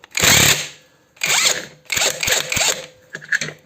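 An impact gun loosens the shock absorber mount nut on a Mercedes C200, firing in four or five short, loud whirring bursts separated by brief pauses, with sharp clicks between them.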